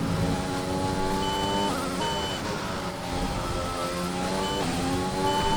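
F1 car in F1 2020 entering the pit lane, a held engine tone at limited speed with a few short shifts in pitch, steady and close throughout.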